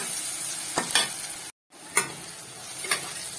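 Onions frying in a pan while being stirred, a steady sizzle broken by several scraping stirs, with a brief silent gap in the middle and no talking.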